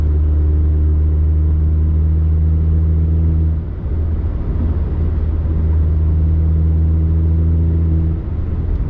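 A 2005–2008 Audi A4 B7 with a turbocharged engine cruises steadily in sixth gear at about 2,000 RPM, giving a loud, continuous, even engine hum and road rumble heard from inside the car.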